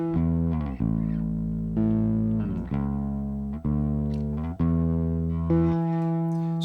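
Bass guitar with subtle distortion on its high end plays a run of sustained notes, each plucked attack decaying into a thick, gritty tone with a slight edge, loud, close and alone.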